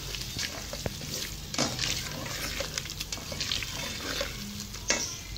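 A spoon stirs spices into beef haleem in a pot, giving a steady wet scraping and churning with occasional sharper knocks against the pot, fairly close and continuous, with no talk.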